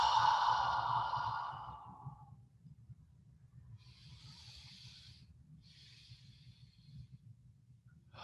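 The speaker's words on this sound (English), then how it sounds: "2 quick inhales, long, slow exhalation" Breathing exercise: a long, audible breathy exhale fades out, then two short nasal sniffing inhales follow, soft and close in an otherwise quiet room.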